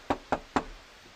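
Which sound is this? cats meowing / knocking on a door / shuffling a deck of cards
knocking on a door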